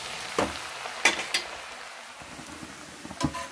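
Champa aval, flattened rice, fries in hot oil for a spicy snack mixture, a close steady sizzling hiss broken by a few sharper crackling bursts and scraping stirs.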